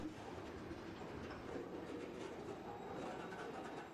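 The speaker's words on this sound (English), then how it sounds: "And this is the last car on this freight train" A freight train with hopper cars rolls past close by, its wheels giving a continuous rumbling clatter over the rails at an even loudness throughout.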